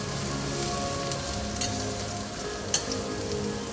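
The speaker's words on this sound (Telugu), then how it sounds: "ముందుగా కట్ చేసుకున్న ఉల్లిపాయ ముక్కలు కూడా వేసి కలుపుదాం" Chopped onions sizzle steadily in hot oil in a pan for ridge gourd curry, a continuous close frying crackle with a few sharper pops and light stirring clicks, no voices.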